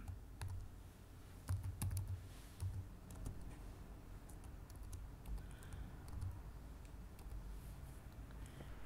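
Soft tapping on a computer keyboard while typing a signature, irregular bursts of key clicks with short pauses, close and quiet against a faint background hum.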